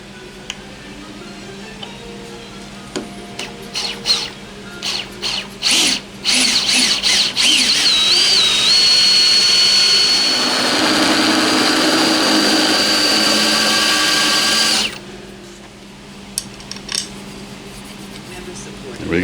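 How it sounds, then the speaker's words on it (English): A power drill bores holes in two steps, first a pilot hole, then a final hole: short whirring bursts, then a long, loud sustained grinding whine that cuts off, followed by a few brief spins. "let's get out the drill, and we'll drill these out in 2 steps"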